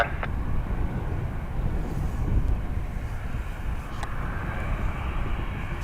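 A Ryanair jet takes off from runway 10 at Dublin Airport, heard as a steady, broad engine roar at moderate distance with some wind noise on the microphone, holding constant throughout.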